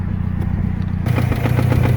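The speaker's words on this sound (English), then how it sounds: "and you can hear the engine." A worn car engine idles with a rhythmic mechanical clatter, close and steady, the knocking growing louder and more pronounced partway through.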